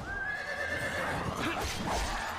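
A horse whinnies in Wo Long: Fallen Dynasty, a long bright neigh that rises and trails off over steady in-game background noise, with faint hoof clip-clops following.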